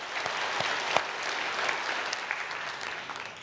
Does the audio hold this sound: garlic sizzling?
no